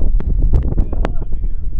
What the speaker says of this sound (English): it is so windy out right now